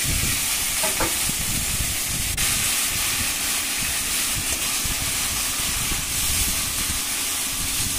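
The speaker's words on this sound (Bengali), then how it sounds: "গোটা জিরে ফোড়ন দিয়ে আমি মাছটা এর মধ্যে দিয়ে দিলাম" Hilsa fish slid into hot oil tempered with whole cumin seeds, giving a steady broadband sizzle and hiss throughout, with a brief clatter near the start and no voices.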